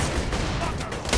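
Rapid SMG fire in Borderlands: The Pre-Sequel rattles continuously through a brief, dense burst, loud and close, with the shots blurring into one dense stream of overlapping reports.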